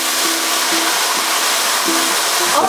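A steady, loud hiss of wine sizzling as it is poured into a risotto pan fills the whole stretch, with faint clinks in the background.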